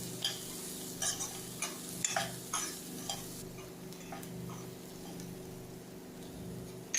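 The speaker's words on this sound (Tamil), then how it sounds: "இதை போட்டு நல்லா கிளறிக்கோங்க." Peas and mango sundal being stirred in a pan, with a series of light spoon taps and scrapes against the metal over a faint steady background hum.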